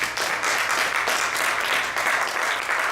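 A church congregation claps steadily in a dense, continuous round of applause, loud and even throughout with no voices standing out.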